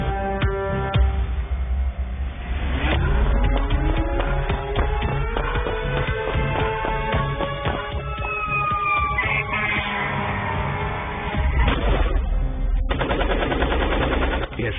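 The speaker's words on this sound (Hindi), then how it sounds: "शदीद फायरिंग की।" Heavy bursts of rapid automatic gunfire crackle loudly and continuously through a dramatized reenactment of an attack, mixed with rising whistling and siren-like tones and dense dramatic sound effects.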